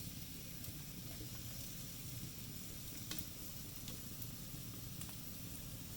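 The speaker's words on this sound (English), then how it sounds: "We'll heat up 3 tablespoons of vegetable oil in a wok. We'll put in the onion and garlic." Onion and garlic frying in three tablespoons of hot vegetable oil in a wok, giving a continuous close crackling sizzle with occasional sharper pops and a light stirring scrape.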